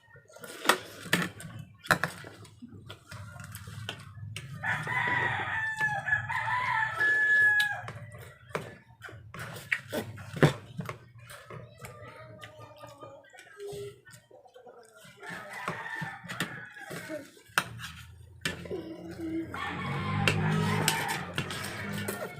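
A rooster crows at a home courtyard, a drawn-out call rising twice amid clatter of dishes and household noise, fairly close and loud, with no talk over it.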